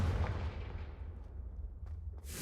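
A fire spell blast striking candelabras in a magic video game, a heavy booming impact at the start that rolls off into a long fading rumble with a few faint crackles.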